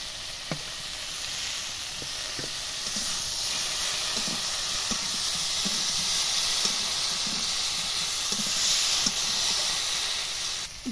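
Mustard paste hitting a hot pan of green tomatoes with salt and turmeric, a steady loud hiss and sizzle with scattered small pops throughout.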